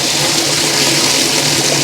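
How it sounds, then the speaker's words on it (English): Water from field drainage tiles gushes steadily in a continuous broadband rush, close and loud, with no pauses or voices over it. "and the water going into the tiles."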